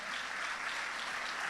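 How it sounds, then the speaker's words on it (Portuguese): A church congregation at a Sunday morning worship service applauding, a dense, continuous roar of many hands clapping at once, steady and loud with no break. "Você pode aplaudir o Senhor,"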